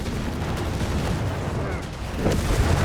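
Artillery fires in a Company of Heroes 3 battle, with dense, rumbling booms and blasts rolling continuously beneath an excited commentator's voice.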